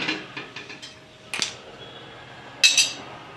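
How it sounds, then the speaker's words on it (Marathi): A kitchen gas stove gives a few quick ignition clicks, then a steel kadhai clanks sharply onto the burner twice in close, bright metallic knocks against a quiet background. "तर चला आपण आता गॅस पेटवून घेऊ आणि कढई ठेवू"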